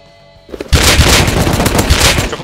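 AK rifle fire in the Rust video game, a sustained loud burst of rapid automatic shots that starts abruptly after a quiet moment.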